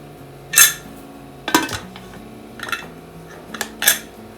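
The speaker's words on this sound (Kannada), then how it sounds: "ಸೊ ಈಗ ನೀಟಾಗಿ ಮಿಕ್ಸ್ ಮಾಡಿಕೊಂಡು ಕುಕ್ಕರ್ನ ಕ್ಲೋಸ್ ಮಾಡಿ." A metal pressure cooker lid is fitted and closed, giving several sharp metallic clanks and clinks spaced about a second apart, close by over faint background music.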